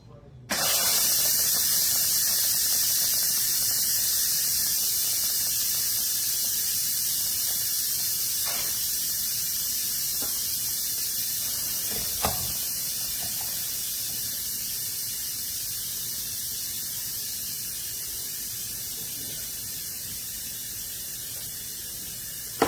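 A pressure cooker vents steam after its release button is pressed, a loud steady hiss that starts abruptly and carries on for over twenty seconds, slowly fading a little, with a few faint clicks underneath.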